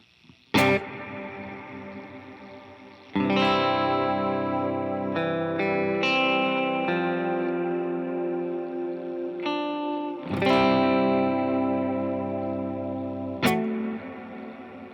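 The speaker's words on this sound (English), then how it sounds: "Here is an example of a reverb called Black Hole, which is Eventide's take on what reverb would sound like in outer space." Electric guitar played through an Eventide Black Hole reverb, with strummed chords and single notes swelling into long, shimmering, spacious washes that trail on between attacks, loud and alone.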